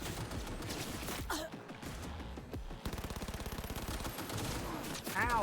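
Rapid automatic gunfire from Cyberpunk combat, bursts of shots in quick rhythm with a gasp and a brief voice, loud and close throughout the short stretch.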